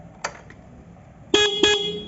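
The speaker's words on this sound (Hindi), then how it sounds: "मैं इसके चाबी स्विच ऑन करके और हॉर्न बजाता हूँ।" A Honda SP 125 motorcycle's horn, heard with the key switched on, gives a faint short toot followed by two loud, close, buzzy honks in quick succession.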